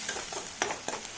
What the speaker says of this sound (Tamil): இது இன்னும் நல்லா வதங்கட்டும்.